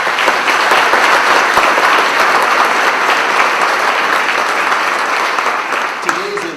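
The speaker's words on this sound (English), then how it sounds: "please give these gentlemen a round of applause" Sustained, loud applause from an audience at a Long Beach City College anniversary celebration fills the whole stretch steadily, easing off slightly near the end as a voice briefly starts speaking.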